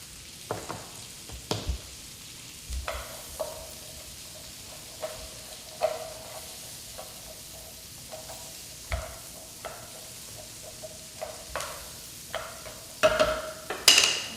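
Vegetables cook down in a hot pan, giving a soft continuous sizzle broken by repeated sharp scrapes and clinks of a utensil stirring, a little louder toward the end.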